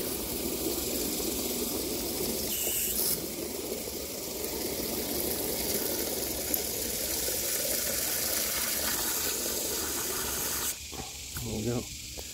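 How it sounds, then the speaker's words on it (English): Water pouring into an Everbilt WB22 water weight bucket for a canopy, a steady rushing hiss that holds for most of the clip and then breaks off near the end. "I'm gonna fill it up. Holds up on its own when it starts filling."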